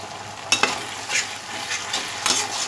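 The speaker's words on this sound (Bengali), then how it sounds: "আগে আমি এই মশলাটাকে 2 মিনিটের মতো একটু কষিয়ে নেব" Masala spice paste stir-frying in a pan, a soft steady sizzle with a few scraping stirs of a spoon, close up and without talk.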